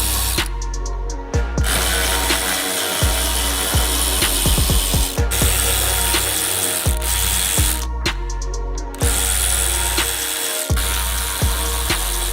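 A ratchet unscrews the bolts holding the OEM front splitter on a 2014-19 Chevrolet Corvette C7 Z06, giving close, loud bursts of rapid clicking separated by short pauses and repeated across the stretch.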